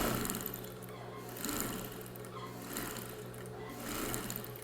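A sewing machine runs steadily while stitching a homemade patchwork rug made from fabric scraps, its motor whirring continuously at moderate volume with slight surges in intensity, no voices present.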